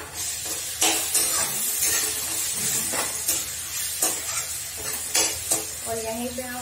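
Ginger garlic paste sizzles with fried onions in a pan for a lentil and bottle gourd dish, a steady close frying hiss broken by a few scraping stirs and a brief bright sputter near the end.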